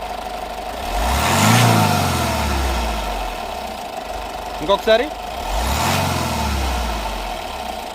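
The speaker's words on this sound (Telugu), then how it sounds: "ఒకసారి యాక్సిలేటర్ ఇవి," A Honda Jazz diesel car engine revs twice under the accelerator, each swell rising and falling, with a steady idle between them. A brief spoken word comes in the middle.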